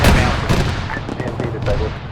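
Gunfire rattles in a military combat video game, a dense, close burst of shots and rumbling impacts packed into a couple of seconds with no pauses.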